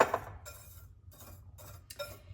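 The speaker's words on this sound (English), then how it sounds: "Just gonna whisk it together" A whisk stirring protein mushroom coffee mix in a cup, with quick light clinks and scrapes coming in short repeated strokes, close and fairly quiet.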